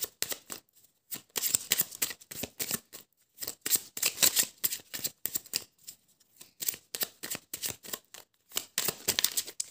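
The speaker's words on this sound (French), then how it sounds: "Je vais tirer une petite carte ici de l'âme sœur, petit oracle." Oracle cards being shuffled by hand before a draw, crisp rapid riffling slaps in quick irregular bursts, close and clear with short pauses between.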